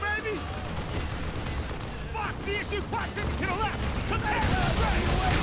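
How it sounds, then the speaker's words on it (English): Dense gunfire and explosions in the video game Call of Duty Black Ops campaign, loud and continuous bursts with booming impacts, while people shout and talk over the fighting. "I'm just gonna shoot everything."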